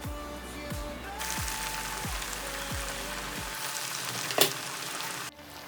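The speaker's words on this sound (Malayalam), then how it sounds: "ഇനി നമുക്കിത് ഫ്രൈ ചെയ്തെടുക്കാം." Banana flower cutlets coated in breadcrumbs fry in a shallow pan of oil, giving a steady loud sizzle and crackle with a series of low thumps early on, then a sharp clink near the end before it cuts off.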